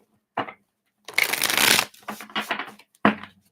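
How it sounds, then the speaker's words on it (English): Oracle cards are shuffled by hand, in a short riffle followed by a longer burst of rapid rustling and a few separate flicks and slaps, close and crisp. "So let's give those a shuffle, and this will be for all readings."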